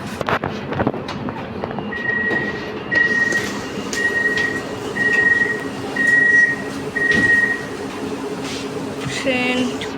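An LRT train rumbles along on its rails, with a steady mechanical drone and several short high-pitched tones repeating at intervals.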